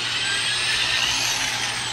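A power drill with a 3/64 inch bit whines steadily as it bores a small screw hole into a PVC end cap for a homemade live bait float, loud and continuous with no voices.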